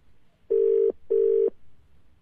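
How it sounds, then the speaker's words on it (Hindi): A redialed phone call rings back through the receiver as two evenly spaced, steady electronic ring tones, clear and close, with a quiet hiss between and no talking. "दोबारा रिंग जा रही है, देखते हैं।"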